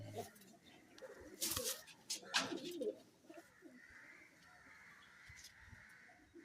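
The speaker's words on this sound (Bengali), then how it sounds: "একই পায়রা, ফুলশিরা একটু টাইপের" A female Madras pigeon gives soft cooing, with a cluster of louder calls in the first half and quieter ambience afterward.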